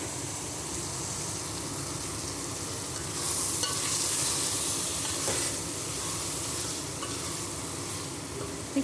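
Half-boiled vegetables fry in a pan for vegetable kichidi, giving a steady, close sizzle that swells slightly midway and runs throughout.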